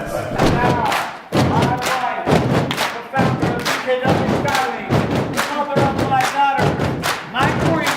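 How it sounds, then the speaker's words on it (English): A group slaps a tabletop in repeated bursts of loud, heavy thuds over about eight seconds, with short gaps between rounds. Voices shout and cheer throughout to build excitement. "we're gonna do a table slap to get you like all pumped up"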